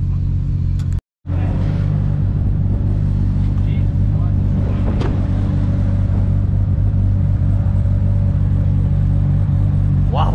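A car engine with a bad exhaust, in a workshop setting with an LS1 VN Commodore, rumbles loudly and steadily at close range, cutting out briefly near the start and then droning on.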